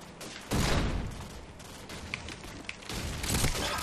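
Gunfire from Call of Duty 4 in a free-for-all match on the Backlot map: loud, dense bursts of shots with sharp cracks in between and a heavy volley returning near the end, with no talking.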